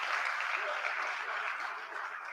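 Applause from the crowd at a political party's post-budget public meeting in Belmont, a steady dense wash of clapping that holds for a couple of seconds at moderate level.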